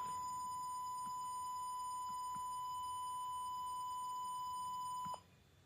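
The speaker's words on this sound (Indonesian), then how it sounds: "buzzer ini akan mengirimkan atau mengeluarkan suara" A steady high-pitched electronic buzzer tone sounds continuously for about five seconds, then cuts off abruptly.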